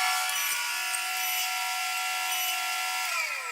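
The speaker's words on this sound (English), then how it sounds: "So from there we brought this board down from 3/4 of an inch down to half an inch. That was using the planer." A thickness planer takes a 3/4-inch wooden board down toward half an inch, giving a loud, steady high whine with constant cutting noise throughout and a slight pitch drop near the end; no talking.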